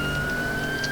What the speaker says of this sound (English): I believe it's a 3000 for the siren here.